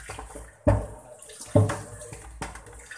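Dishes being washed under running tap water, with a steady trickle of water punctuated by a few sharp clatters and splashes as the items are handled.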